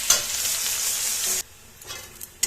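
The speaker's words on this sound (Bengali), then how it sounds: "আমি লাল লাল করে রসুনটা ভেজে নিয়েছি" Garlic frying in oil in a wok, a loud steady sizzle for over a second that drops away abruptly, followed by quieter scattered crackles and a short sharp clatter near the end.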